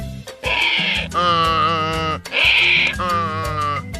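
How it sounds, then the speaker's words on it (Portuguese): A donkey brays twice, long and loud with a strained, harmonic rasp, each call rising and falling; a short gap separates them. No talking. "esse é o som do burro"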